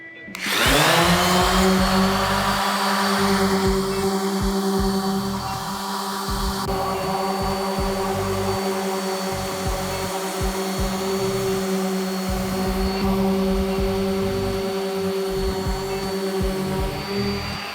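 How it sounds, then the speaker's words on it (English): An orbital sander with 60 grit paper sands dried CA glue off wood, starting with a burst and then holding a loud, steady whine and hum with slight shifts in pitch as pressure changes. "we're just going to go ahead and grab some 60 grit on an orbital sander and take it off."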